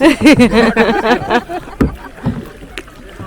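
A five-member team paddles kayaks on a river during a race, paddle splashes and water sloshing under loud, close voices talking excitedly.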